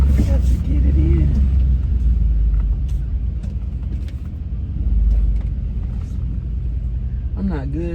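A large car idles and rumbles at low pitch while being maneuvered into a parking spot, swelling slightly midway, as someone talks over the engine throughout.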